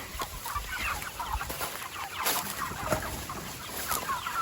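A flock of broiler chickens clucks and murmurs close by, with repeated short clucks scattered over a steady background of farmyard noise.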